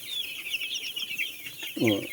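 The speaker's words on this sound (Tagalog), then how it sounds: "masisigla ang inyong mga alagang manok" Chickens cluck and chatter close by, a steady flurry of short high calls ending with a louder, deeper cluck.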